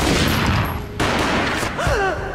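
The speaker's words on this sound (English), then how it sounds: "A gunshot boomed and she fell down in slow motion." A gunshot booms in the Max Payne video game, heard as a loud, dense burst of gunfire through the clip with a sharp cut midway and a brief tonal swoop near the end.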